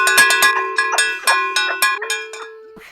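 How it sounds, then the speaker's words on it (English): A bright metallic bell is struck about a dozen times in quick, uneven succession, each ring overlapping the last, with a steady low hum underneath. "Ring that bell"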